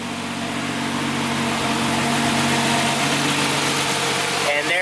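A Mazda RX7 with a swapped-in 2JZ engine idles steadily at close range, a dense, even rumble that holds at one level for the whole stretch.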